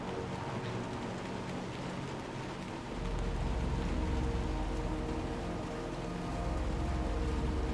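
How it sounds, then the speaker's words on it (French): Steady rain falls in the video game Little Nightmares 2, a dense, continuous hiss of drops with a low rumble that swells slightly partway through, with no voices. "Eh oui, on s'en va sous la pluie."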